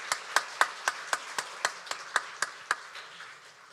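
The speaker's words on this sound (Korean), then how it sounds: "축복의 박수하도록 하겠습니다." A church congregation gives a blessing clap at a Sunday service: about a dozen sharp claps in an even, steady rhythm, close and fairly loud, that fade out at the end.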